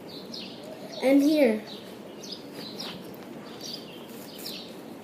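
Birds chirp in a brief, loud burst of warbling notes near the start, followed by fainter scattered tweets against a quiet background while a person says a few words.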